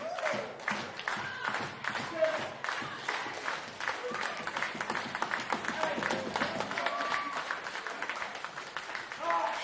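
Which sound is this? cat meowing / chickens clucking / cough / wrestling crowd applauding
wrestling crowd applauding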